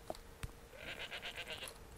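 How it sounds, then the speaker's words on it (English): After a couple of short knocks, a goat in the Skyrim video game lets out a wavering, pulsing bleat that is faint and nearby. "What is with that goat, kid?"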